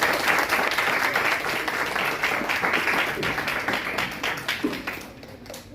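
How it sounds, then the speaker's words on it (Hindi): An audience at a school poem recitation competition breaks into loud, sustained applause, a dense wash of clapping that tapers slightly near the end. "एक बार जोरदार तालियों से"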